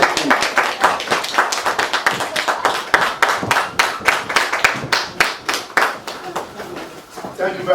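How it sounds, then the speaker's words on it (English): Audience at a business luncheon claps for a company CEO, a loud run of sharp, distinct hand claps with an uneven rhythm that swells and dips, close by, with some voices mixed in. "Can you please give her a round of applause?"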